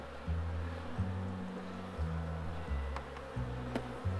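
Honeybees buzz around an opened beehive during a January hive inspection, a low droning hum that shifts pitch in steps as bees fly close past, with faint scraping handling noises and no talk.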